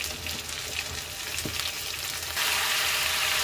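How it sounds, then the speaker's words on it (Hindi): Potatoes tipped into a frying pan of yellow rice, giving a steady hiss of sizzling oil with faint stirring scrapes that grows louder near the end. "सबसे पहले मैं इसमें आलू ऐड कर दूँ।"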